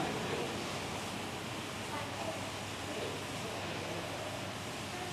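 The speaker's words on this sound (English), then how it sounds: "Watch those waves roll in." Ocean waves roll onto the sandy beach at Jimbaran Bay in Bali, a steady, broad wash of surf with no distinct breaks, heard alone at moderate distance.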